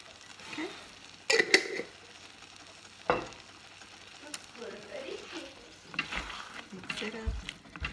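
Spaghetti meat sauce with an Asian twist, topped with Parmesan, being stirred in a hot pan: soft scraping and clattering strokes over a low, steady sizzle, with a few sharper knocks of utensil against pan.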